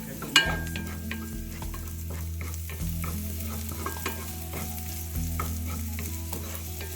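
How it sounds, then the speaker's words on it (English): Ginger and shallot sauté in a hot pan with a constant close sizzle, punctuated by repeated utensil scrapes and stirring clatter throughout, no talking. "So now we're going to put the ginger, yes, and we're going to saute it for a few minutes."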